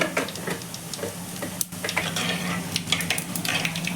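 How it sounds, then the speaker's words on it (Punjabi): Cumin seeds sizzle in hot oil for a spicy okra dish, a steady close frying hiss with small crackles and occasional clinks of a spoon against the pan, no voices. "ਤੇਲ ਗਰਮ ਹੋ ਗਿਆ ਏ ਇਹਦੇ ਵਿੱਚ ਪਾਵਾਂਗੇ ਆਪਾਂ 1 ਚਮਚ ਜੀਰਾ"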